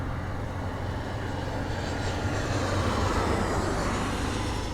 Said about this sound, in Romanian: tocmai aterizează un avion